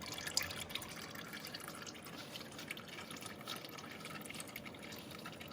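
Old engine oil drains from the oil pan of a Porsche 928 S in a steady, even trickle with faint drips on top, low in level and continuous throughout.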